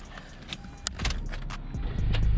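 A car being started, with key and mechanical clicks and a rising engine rumble that swells near the end, close and fairly loud with no talking.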